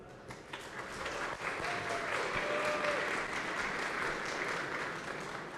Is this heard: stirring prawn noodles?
no